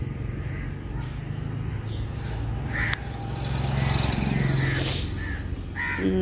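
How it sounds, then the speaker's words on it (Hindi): Birds chirp and crows caw around a rural village in cool, rainy weather, scattered calls rising over a steady wash of background noise with no talking. "परिंदे चहचहा रहे हैं"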